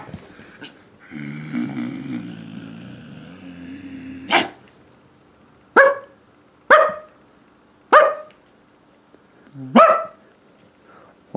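A dog's sharp barks ring out, about five of them spaced roughly a second apart, following a stretch of low whining or rumbling noise.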